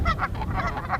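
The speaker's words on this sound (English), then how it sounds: "The first birds of the new season, they're already here." Geese, among the first migrating birds of spring, honk in a rapid string of loud calls at a thawing pond that is filling up again.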